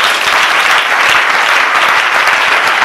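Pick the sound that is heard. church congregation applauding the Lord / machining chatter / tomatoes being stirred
church congregation applauding the Lord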